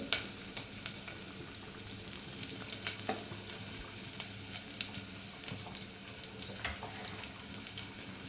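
Two medium onions and asafoetida with curry leaves frying in oil for hotel-style radish sambar; a faint steady sizzle with scattered light pops and stirring clicks, no talking.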